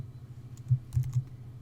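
Computer keyboard keys tapped a few times in quick succession while entering a formula in a spreadsheet, soft close clicks over a quiet room.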